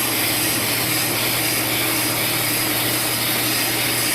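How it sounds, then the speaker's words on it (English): A brake lathe machines a 2008 Ford Expedition rear brake rotor, giving a continuous, even whirring grind with a steady low hum, close and loud throughout with no talking. "And then machine our rotor."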